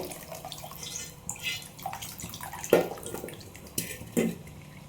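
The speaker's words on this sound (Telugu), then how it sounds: "చింతపండు తొక్కలేం పడకుండా జాగ్రత్తగా పోసుకోవాలి పులుసు" Tamarind broth is poured into a pot of egg curry. It makes soft splashes and drips with a few clinks of the vessel, close up, and no one speaks.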